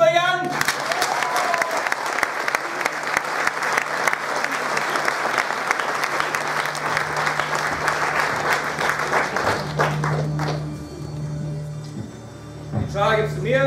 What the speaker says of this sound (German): Applaus für Jan!